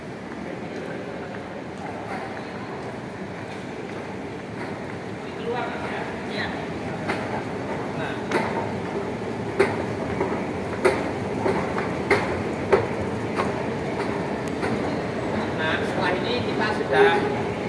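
Underground Jakarta MRT station ambience, with a steady hum, scattered clicks and clatter from a passing train, and faint voices in the background.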